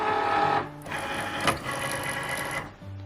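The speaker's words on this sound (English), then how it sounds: "I'm gonna go ahead and put the mat into the Cricut, and I'm going to load it in by pressing this button" A Cricut cutting machine draws a mat in for loading, giving a steady mechanical motor whir with a brief click near the middle, then stopping; close and alone with no talk.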